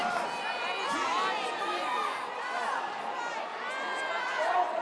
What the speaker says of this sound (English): Starting to hear some people in the crowd yelling at their team.